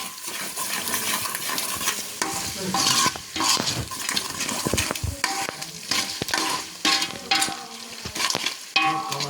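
Steady stirring through a hot, sizzling pan of spicy curry just after red chili powder goes in, for a dal bati meal; repeated scrapes and soft utensil knocks ride over the constant frying hiss, close up with no talking.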